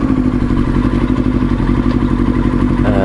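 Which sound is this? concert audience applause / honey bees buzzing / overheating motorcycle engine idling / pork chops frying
overheating motorcycle engine idling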